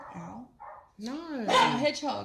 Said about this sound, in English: so apologies for the dogs